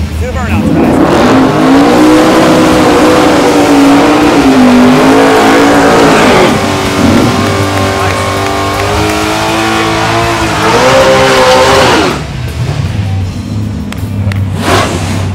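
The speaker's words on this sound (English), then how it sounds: "Two burnouts, guys." Chevy Camaro and Chevy Vega drag racers do burnouts at the strip, with loud sustained engines roaring and revving, rising and falling in pitch with tire noise, and a voice heard over the din.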